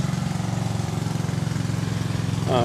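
A tractor engine idles nearby at the Red Power Roundup tractor show in Lima, Ohio, a steady rumbling with a regular low throb, holding constant and swelling a little louder at the very end.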